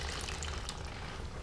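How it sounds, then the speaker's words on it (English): Water splashes steadily into a bucket of sand holding a chicken, a continuous close, rushing pour with no pauses. "Pour in a generous splash of water"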